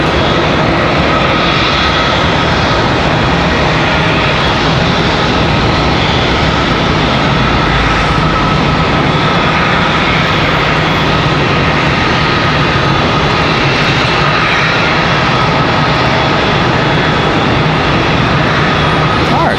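A Boeing 717 airliner's engines roar loudly and steadily as it taxis to the gate at Charlotte Douglas International Airport. People talk over the continuous engine noise.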